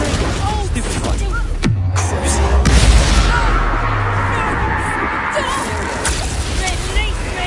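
Fiery Confringo spell explosions in Hogwarts Legacy, several booming blasts with sloshing, crackling bursts amid game noise and a speaking voice.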